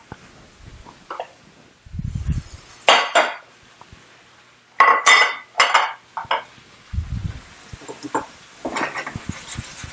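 Dishes and cutlery clink and clatter while pasta is plated into a bowl, with short bursts of bright metallic scraping and knocks separated by brief quiet gaps, close up.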